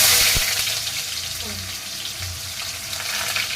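Onions fry in hot oil in a wok for a mutton kasha, making a dense, steady hiss with a clack near the start and faint low handling noises. It is close-miked with no clear talking.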